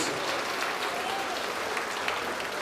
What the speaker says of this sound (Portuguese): Vamos aplaudir bastante ao nome de Jesus